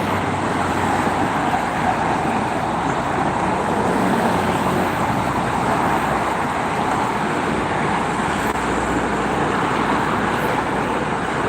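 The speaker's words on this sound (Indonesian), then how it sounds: "ada peningkatan volume kendaraan" Continuous dense roar of heavy holiday-return traffic on a Jakarta toll road, steady and loud throughout with no pauses, vehicles blending into one wash of road noise.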